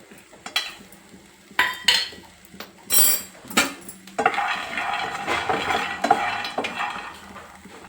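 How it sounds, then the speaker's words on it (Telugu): Peanuts tipped into a kadai on a lit stove while making Telugu stuffed brinjal masala curry: a few sharp metallic clinks and clatters, then a steady close frying rustle and sizzle. "ఇప్పుడు స్టవ్ వెలిగించి కడాయి పెట్టుకొని ఒక రెండు టేబుల్ స్పూన్ల పల్లీలు వేసుకోవాలి"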